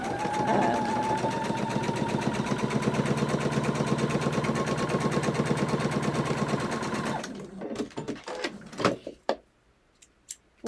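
A sewing machine stitches quilt block pieces in a steady, fast mechanical run for about seven seconds, then stops, followed by a few soft handling clicks and thumps close by.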